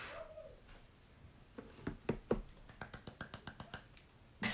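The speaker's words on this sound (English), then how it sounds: "I clap like an Animal Crossing character" One person clapping hands during an Instagram livestream, a string of light, sharp claps that start sparse and quicken into a rapid series, thin and close in a quiet room, with a brief louder noise at the end.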